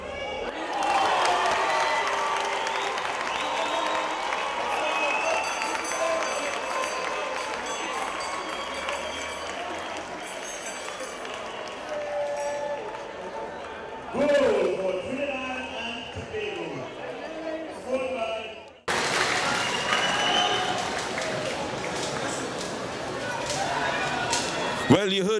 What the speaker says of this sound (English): Well, you heard the appreciation of the crowd